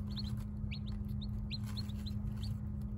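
Young chicks peep in short, high, repeated chirps over a steady low hum, being moved into a dry spot in a classroom.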